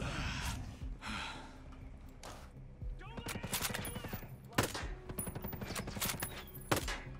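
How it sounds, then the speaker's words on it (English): Machine gun turret fire in the Ghost Recon Breakpoint video game, rapid rattling bursts of shots under a player's gasps and breathing, moderately loud, with a few sharper single cracks. "Who's shooting me?"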